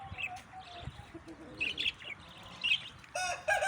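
A Golden Heavy Buff chicken gives short clucks and chirpy calls in brief bursts, fairly quiet and close, with gaps of low background noise between calls.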